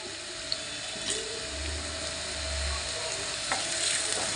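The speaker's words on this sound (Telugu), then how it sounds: "చిన్న ఉల్లిపాయలు 3 ఉల్లిపాయలు వేసాను ఫ్రెండ్స్." Three small onions frying in oil, giving a continuous close sizzle with faint pops and a low hum underneath, no voices.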